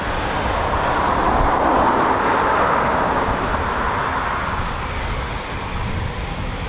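Rolls-Royce EJ200 jet engines of a Eurofighter Typhoon FGR4 spooling at an RAF station, a loud, steady broadband roar that holds for several seconds, with no talk over it.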